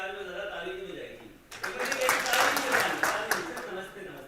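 An audience at a laughter yoga session for stress management bursts into clapping after a voice speaks, the applause swelling into a dense, lively patter that carries on to the end.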